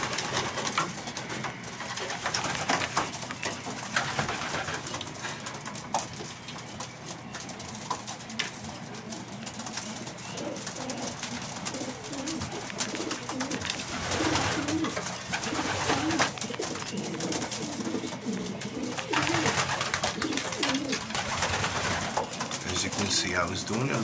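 Young racing pigeons coo continuously in a loft, a dense, close chorus of soft, throaty calls with wing flutters and shuffling, while someone talks over them.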